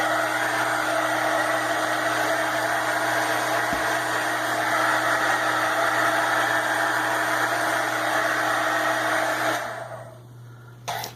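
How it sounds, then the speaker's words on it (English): Heat tool drying paint: a steady loud blowing whir with a constant hum, running close for about ten seconds before cutting off abruptly. "I should stop the recording to dry it with the heat tool"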